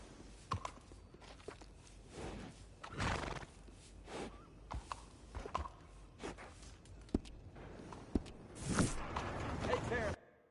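Horse in Red Dead Redemption 2, with hooves clip-clopping in uneven steps and a neigh near the end, heard under intermittent talking.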